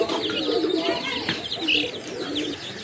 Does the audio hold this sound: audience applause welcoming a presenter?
no